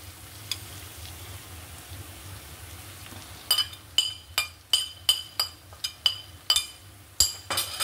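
Chicken with fried onion, dried chili, turmeric, ground coriander and cumin sizzles softly in a pan while a utensil clinks sharply against the metal in a quick, irregular run of stirring strikes.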